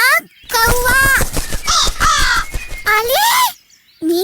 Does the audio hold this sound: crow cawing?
yes